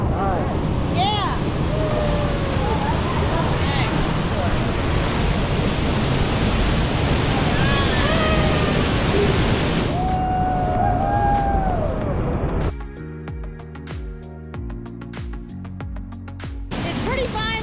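A powerful waterfall in a gorge roars as a dense, steady rush of falling water close by, with wind buffeting the microphone, bird calls over the top, and the roar dropping away near the end.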